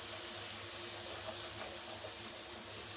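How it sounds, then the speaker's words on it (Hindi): Water sprinkled into a spice mix while cooking aloo tangri, a soft continuous hissing wash of water, faint and steady with no voices. "जी तो यहाँ से पानी का छींटा दिया है और इसे मिक्स करेंगे"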